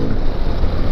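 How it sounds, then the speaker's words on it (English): A 1985 Honda Elite 150 scooter engine roars steadily under open throttle on a wet road, a dense, continuous low rumble mixed with wind buffeting on the microphone. "I love twisting the throttle and hearing this little engine roar."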